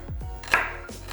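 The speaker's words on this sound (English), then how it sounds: "roughly chop my ingredients" A kitchen knife roughly chops salsa verde ingredients on a board, a few quick uneven cuts close by, with no talking.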